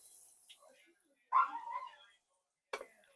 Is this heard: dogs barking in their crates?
yes